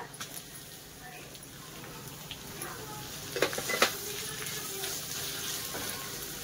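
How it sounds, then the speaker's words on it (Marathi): Onion frying with cashews, star anise and green chillies for veg pulao, a low steady sizzle with a few scraping stirs near the middle, fairly quiet throughout. "चक्री फूल, हिरवी मिरची, तर कांदा टाकूया."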